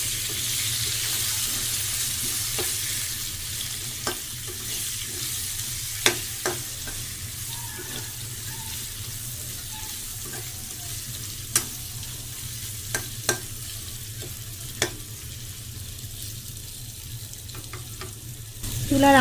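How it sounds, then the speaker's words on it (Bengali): Rui fish pieces coated in turmeric fry lightly in a pan with a soft continuous sizzle under a low stove hum, punctuated by several sharp clinks and scrapes of a utensil. "তারপর এগুলো হালকা ভাজবো।"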